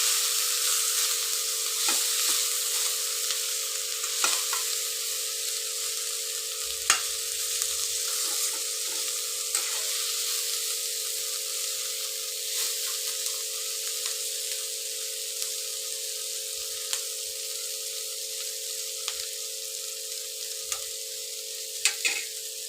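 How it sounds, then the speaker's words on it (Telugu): Sliced bitter gourd fries in oil in a nonstick pan, giving a steady soft sizzle with occasional scraping clicks as it is stirred. "ఒకసారి కలిపేసుకొని మంచిగా కలుపుతూ ఫ్రై చేసుకోవాలి."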